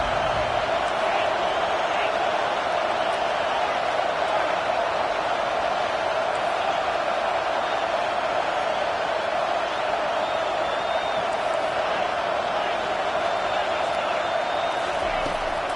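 A stadium crowd at an American football game roars on third down as the defense takes the field, a loud, dense and continuous wall of cheering and shouting that barely varies in level throughout.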